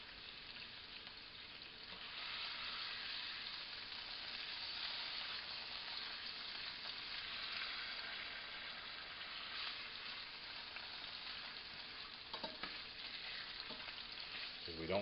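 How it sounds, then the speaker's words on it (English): A beef fillet for beef Wellington sears in a hot pan with a continuous close sizzle and crackle. It grows a little louder after the first couple of seconds, with a few brief clinks near the end. "You can see how it's just seared."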